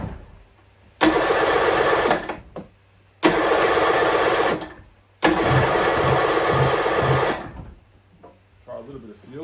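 Kawasaki JS550SX two-stroke jet ski engine is cranked over in three loud bursts, each a rough buzzing churn lasting one to two seconds with short pauses between, close by, the last attempt catching with a pulsing rhythm.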